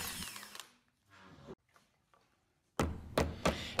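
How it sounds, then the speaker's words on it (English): A power drill with a slightly larger bit bores out holes in a wooden crosscut table saw sled, whirring in short bursts that spin down between pauses, then louder grinding runs near the end. "Stepping up in drill bit sizes just a little bit, I'm going to go ahead and drill the rest of these out."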